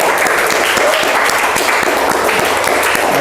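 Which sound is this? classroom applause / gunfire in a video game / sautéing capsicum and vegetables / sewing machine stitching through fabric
classroom applause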